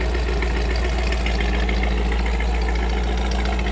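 A 1956 Cadillac Sedan Deville V8 idles at close range with a steady, heavy low-end rumble and an even, continuous exhaust note that never changes pitch.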